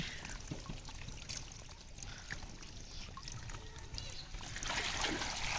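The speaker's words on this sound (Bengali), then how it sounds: "মাছগুলো ওজন করা হচ্ছে পাল্লা দিয়া ট্যাঙ্কিতে ওঠানো হচ্ছে" Water pours into a tank holding tengra fish fry, a steady rushing splash that swells near the end while a person talks over it.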